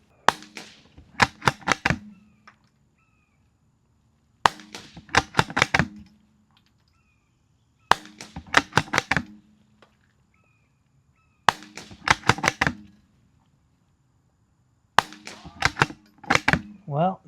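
Sharp rifle shots from a Savage B22 Precision fired at targets on a range, grouped in quick clusters of several cracks, each burst separated by a few seconds of quiet, loud and close.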